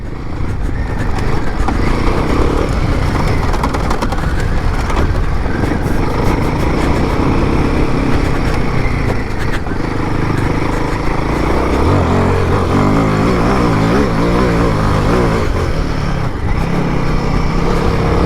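A Himalayan 450 motorcycle ridden hard on a dusty expert dirt trail at an adventure bike festival in the UK, its engine roaring loud and close without pause, with no voices.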